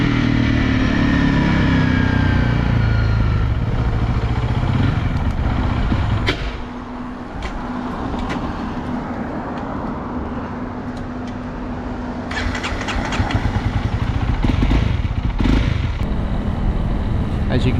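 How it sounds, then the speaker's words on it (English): A Honda CRF300L motorcycle with a cutting-out fault runs at close range: the engine drones loudly, drops off abruptly partway through, then carries on with scattered sharp pops and puffs. "there was a sort of a loud popping, puffing sound, and it just cut out."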